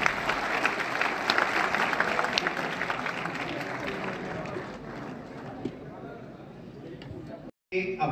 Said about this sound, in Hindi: तालियों से स्वागत करें डायरेक्टर साहब।